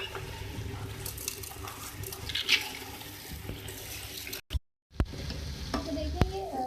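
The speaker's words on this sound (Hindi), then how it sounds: "अब मैं इसमें चावल ऐड करूँगी" Rice tipped into a pot of yogurt-fried aloo matar tahari base and stirred in, with scraping and sizzling, a brief silent gap midway, then more mixing and clinks.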